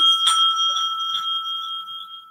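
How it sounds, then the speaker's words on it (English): A timekeeper's bell at an English debate competition gives one sharp ring followed by a second strike, with a clear sustained metallic tone fading slowly in an otherwise quiet room. "the bell will be rung twice"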